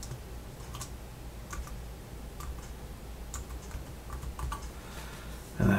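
Someone typing a password on a computer keyboard while installing Windows 10 IoT Core for a Raspberry Pi, with a run of light, irregular key taps, fairly close, ending in a louder thump.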